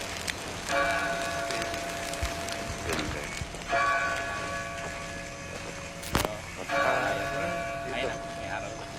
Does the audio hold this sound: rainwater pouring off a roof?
no